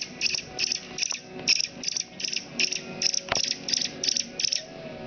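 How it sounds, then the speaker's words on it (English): A three-day-old baby chick peeps repeatedly while being hand-fed, a steady run of short, high cheeps close by, roughly ten bursts in quick rhythm. "Does he ever stop peeping?"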